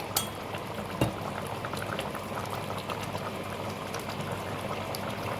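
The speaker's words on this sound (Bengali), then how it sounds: "ঝোল ফুটে গেছে" Fish curry gravy boils in a pot, a close, continuous bubbling and simmering with a few sharper pops and clinks, no talk over it.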